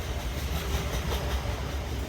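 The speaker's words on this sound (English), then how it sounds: "Oh, here comes a train." A train passes on the rail line behind a backyard, a steady low rumble and rush that stays at an even level throughout, with no speech.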